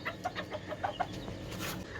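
A hen pecks at a serving of chicken pilaf in a backyard coop, giving soft, short clucks in a quick irregular series close by, with other chickens faintly around.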